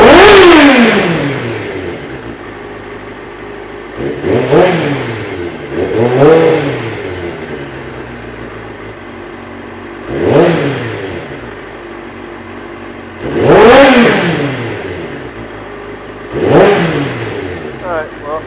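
A 2007 Kawasaki ZZR600 sport bike engine, freshly fitted with new spark plugs, runs at a smooth steady idle close by, with several sharp throttle blips rising and falling at intervals, each rev loud against the low rumble.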